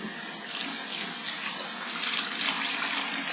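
Warm tap water runs steadily from a faucet into a sink during face washing, a close, continuous splashing hiss with no break.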